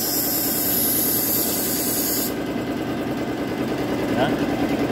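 Air hisses steadily from a pneumatic roller lever limit switch, then cuts off partway through, leaving a low mechanical hum with a person talking nearby.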